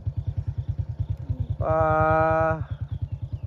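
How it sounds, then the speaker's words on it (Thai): Motorcycles ride along a rural road, a steady pulsing engine throb running the whole time, with a loud tonal horn-like blast rising over it for about a second in the middle. "ทุกคนขี่รถไปนำกัน"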